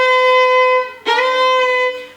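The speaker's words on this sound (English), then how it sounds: "I really mess up and I slide past it." Fiddle playing a sustained bowed note, then a new stroke that slides up and overshoots the intended note before settling, a short, clear, solo passage with no talk.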